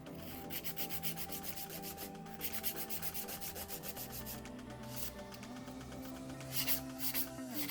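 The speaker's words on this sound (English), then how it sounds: "we're going to do the same filing process and neaten up this wall that we've made" A nail file rasps over an acrylic nail in rapid back-and-forth strokes, a close, steady scratchy rubbing that continues throughout and grows slightly louder near the end.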